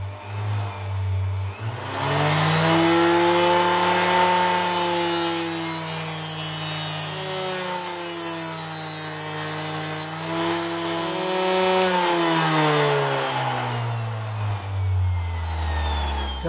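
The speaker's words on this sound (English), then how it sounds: "Let's try sharpening a knife." A knife is held against a Ferrex mini bench grinder, likely an 80-grit wheel. Loud, continuous grinding hums over the motor's whine, shifting in pitch as the blade moves, with no talk.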